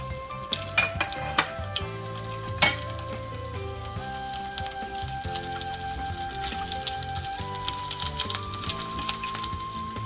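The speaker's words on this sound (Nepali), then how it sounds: "मैले लसुन चाहिँ यो बोक्रा नताछिकन यो झार्न लागिरहेको छु" Whole unpeeled garlic cloves frying in fat before fatty intestine is added, a bright, steady crackling sizzle with scattered pops and spoon clinks, close up, no one speaking.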